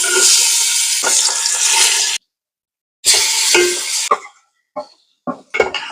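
Marinated chicken goes into a pot of hot ghee for chicken dum biryani, giving loud, dense sizzling bursts broken by a sudden silence, followed by a second sizzle and scattered utensil clinks.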